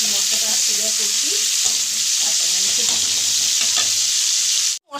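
Spice paste with a small tomato frying in hot oil in a wok (kadai) for a prawn mustard-poppy seed dish, a steady loud sizzle with scraping stirring strokes throughout, cutting off abruptly at the very end.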